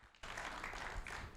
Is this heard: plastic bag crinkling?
no